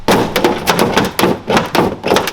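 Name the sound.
someone jumping on a boxed carbon fiber car hood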